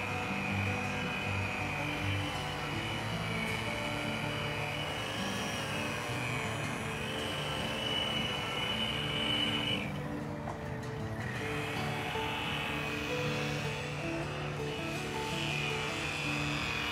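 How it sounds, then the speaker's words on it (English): A 10-inch 60-ply cotton buffing wheel loaded with white chrome rouge runs against aluminum, giving a loud, steady motor whine and rushing drone throughout with slight shifts in tone as the workpiece is pressed in. "He's using a 10-inch 60-ply cotton wheel with the white chrome rouge."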